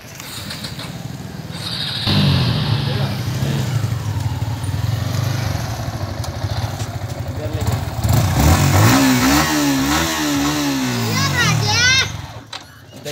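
A Yamaha R15 motorcycle engine revs loudly and steadily up close, rising and falling in pitch as the throttle is worked, while people and children talk nearby.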